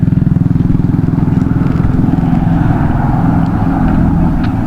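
A Yamaha NMAX scooter engine runs steady and close, a loud continuous motor drone with a fast pulsing putter that holds level as the bike goes by among other idling bikes at a roadside hangout.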